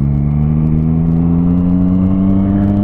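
A motorcycle accelerates in second gear, its engine holding a loud, steady close-up drone that climbs slightly in pitch throughout, with no voices.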